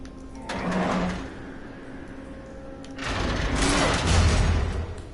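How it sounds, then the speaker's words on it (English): A heavy door slides open in Batman: The Telltale Series game, two loud grinding mechanical bursts separated by a quieter hum, close and without talk. "So open up this door."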